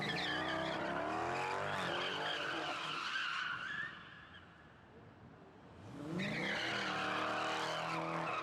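A car spinning donuts at a car meet in a spot scarred with tire marks, loud tires skidding and screeching with engine roar, easing off briefly mid-way before a second burst of squealing.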